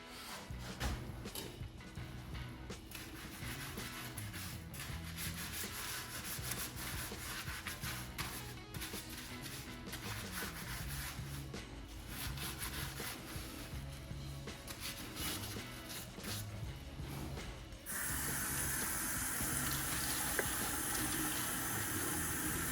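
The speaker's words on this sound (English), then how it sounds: "let's get to washing these pieces up" Antique garage-sale items being washed under running water in a small sink, a steady low splashing and trickling flow that continues throughout and turns brighter and hissier near the end.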